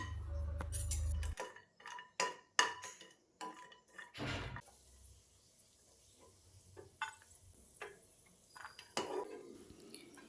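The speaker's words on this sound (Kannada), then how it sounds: "ಮೊದಲಿಗೆ ಪ್ಯಾನಿಗೆ ಮೂರು ಚಮಚದಷ್ಟು ತುಪ್ಪ ಹಾಕ್ಕೊಂಡು ಗೋಡಂಬಿನ ಕಂದು ಬಣ್ಣ ಬರುವವರೆಗೆ ಹುರ್ಕೊಳ್ಬೇಕು" Cashews fry in ghee in a pan, with a metal spoon clinking and scraping against the pan in irregular stirring strokes and a faint sizzle underneath, fairly quiet and close.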